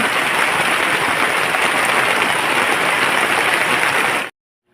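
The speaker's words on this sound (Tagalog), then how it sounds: "Sayo pa kaayo niyang maong ulan." Heavy rain pours steadily on New Year's Day, a loud, dense, unbroken hiss that continues for about four seconds and then cuts off abruptly into silence.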